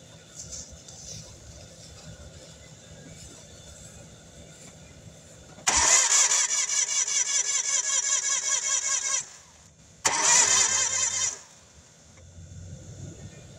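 A 2008 Hyundai Accent engine cranks in two loud, rapid chugging bursts of several seconds each as it tries to start, with quieter background noise between them.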